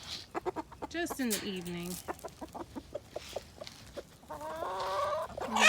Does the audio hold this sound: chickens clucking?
yes